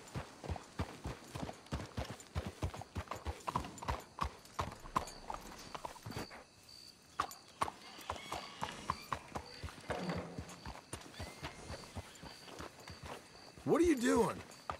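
Steady clip-clop of horse hooves walking, a regular plodding rhythm under people talking, with a brief whinny near the end, in the video game Red Dead Redemption 2.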